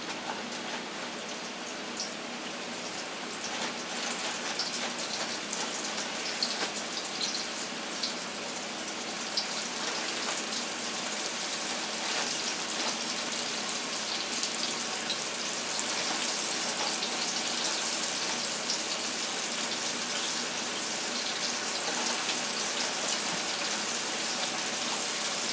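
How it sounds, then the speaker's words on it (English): Pieces of crispy fried chicken sizzle in hot oil, giving a continuous loud, even crackle and hiss with fine popping throughout and no voices. "You hear it sizzling?"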